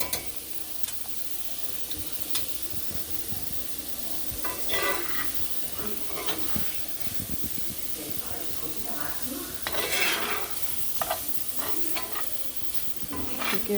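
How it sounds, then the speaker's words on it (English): Gumbo roux stirred in a pot, a low sizzle under repeated scraping and dragging strokes of the spoon, close by and irregular, with a person talking over it. "And we stir. It's going to get pasty and clumpy."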